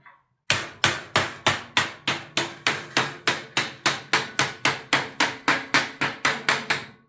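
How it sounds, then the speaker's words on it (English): Steady, evenly spaced hammer blows ring out on sheet metal ductwork, about twenty sharp metallic strikes in a regular rhythm, close and loud. "we're going to hammer him back down"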